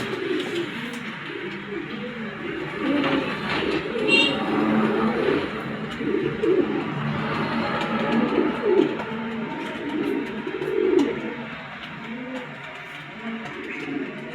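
Pigeons coo repeatedly in a bird dealer's collection of breeding pairs, soft rolling calls layered and continuous near the listener, with a voice talking over them.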